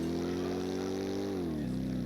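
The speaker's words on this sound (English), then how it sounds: "You can hear it kind of revving the engine and spluttering a bit" A synthesized, procedurally generated car engine drones with a steady low tone, then its pitch dips in steps as if shifting or spluttering, heard up close with no talking.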